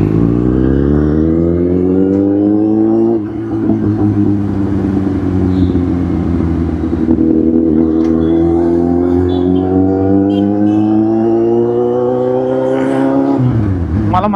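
Car exhaust drones loudly in a mall parking lot, a deep, steady idle with a rich rumbling tone that dips briefly around three seconds, then climbs again before easing near the end.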